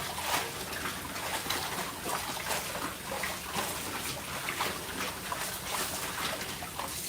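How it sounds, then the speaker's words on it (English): Water rinsing sand out of an item, heard as a continuous splashing, gurgling wash that runs steadily at moderate level for the whole stretch with no talk over it. "I'm rinsing it"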